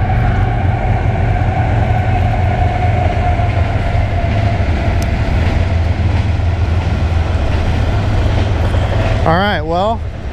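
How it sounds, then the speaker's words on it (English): A train rumbles past close by, a loud continuous roar of wheels and cars, with a brief horn-like tone near the end. "Train's coming by"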